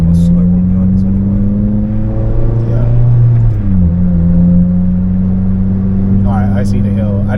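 A Honda Civic Type R FN2 with a K24 engine pulls up a steep hill, a loud steady in-cabin engine drone whose pitch shifts midway as it gears through, with people talking over it.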